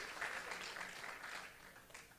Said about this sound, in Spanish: Dele ese aplauso grande a su Señor